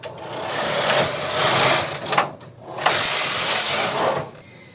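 A knitting machine working one round of a tubular double-layer hat, its carriage whirring and clattering in long sweeps with brief pauses between passes, fairly close and without talk.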